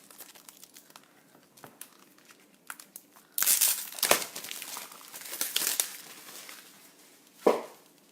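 A paper pad is torn and crinkled up close in a craft session, with a sharp burst of rustling and ripping followed by scattered crinkles and a final crisp tear.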